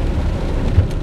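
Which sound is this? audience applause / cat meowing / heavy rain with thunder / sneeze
heavy rain with thunder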